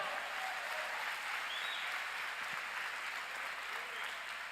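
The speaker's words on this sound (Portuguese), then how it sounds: "Se alguém dá um glória a Deus, dê uma salva de palmas a Ele." Sustained applause from a church congregation during a sermon, a dense even wash of many hands clapping throughout, with no talking over it.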